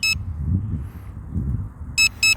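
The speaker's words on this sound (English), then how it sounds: "I still haven't figured out how to eliminate the beeping noise" Electronic beeps from a Hubsan Zino 2 drone at a landing pad: one at the start and two more near the end, each a short, loud, shrill tone over a low rumbling background.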